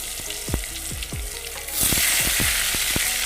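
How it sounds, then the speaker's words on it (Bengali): Eggplant pieces fry in hot oil in a wok, a steady crackling sizzle that swells louder partway through, with scattered low clinks of a utensil against the pan. "কড়াইয়ের তেলটা গরম হয়ে গেছে আগে আমি এই বেগুনগুলো ভেজে নেব"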